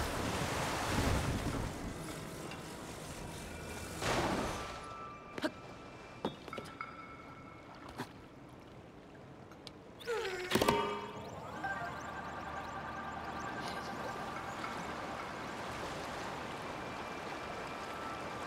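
A boat sails across lake water in Zelda: Tears of the Kingdom, with a steady wash of waves and wind, a few splashes and knocks, and a sharper burst partway through.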